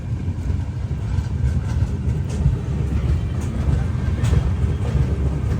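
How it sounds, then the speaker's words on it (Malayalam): The Grand Trunk Express rolls into Ongole railway station in rain, a low, steady rumble of railcars heard close from the platform and holding for several seconds. "ഓങ്കോൾ റെയിൽവേ സ്റ്റേഷനിലേക്ക് ഇതാ ട്രെയിൻ എത്തിക്കൊണ്ടിരിക്കുകയാണ്."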